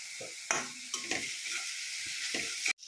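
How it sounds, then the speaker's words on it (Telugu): Ginger garlic paste and onion paste fry in a pan for a fish curry, a close hiss of sizzling broken by a few scraping stirs, ending abruptly, with no talk. "అల్లం వెల్లిపాయ పేస్ట్, ఉల్లిపాయ పేస్ట్ ఇలా వేగింది."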